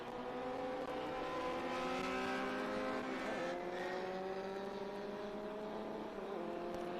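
Formula V and production race cars, including a Datsun 510, lapping the Circuit of the Americas: several engines drone and rise in pitch together as they pass at a distance, a steady, moderately faint blend of revving.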